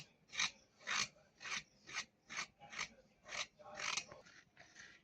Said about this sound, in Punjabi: ਇਹਨਾਂ ਨੂੰ ਆਪਾਂ ਕੱਦ ਦੇ ਨਾਲ ਇਸ ਤਰ੍ਹਾਂ ਰਗੜ ਕੇ ਛਿੱਲ ਲਾਂਗੇ